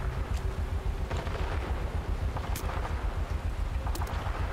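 Gunfire from a shootout with militia in Fallout 76, scattered sharp shots popping at irregular intervals over a steady low rumble of ambience, fairly loud and close.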